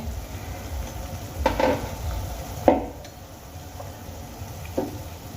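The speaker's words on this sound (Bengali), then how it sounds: "এখানে দেখো ঝোলটা কিন্তু খুব সুন্দর ফুটে গেছে" Fish curry gravy made with ground mustard paste simmers in a pan, giving a soft bubbling sizzle broken by a few sharp clinks of a utensil against the pan.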